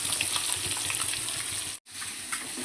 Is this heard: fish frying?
yes